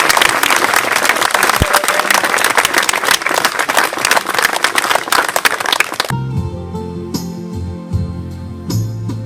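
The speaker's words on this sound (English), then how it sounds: "a big round of applause to our guest of honour, Philomena Lee, and her daughter Jane." Audience applause at a mothers and babies commemoration ceremony in Roscrea, loud sustained clapping from a large crowd for about six seconds, then cutting to quieter ambient sound with low hum.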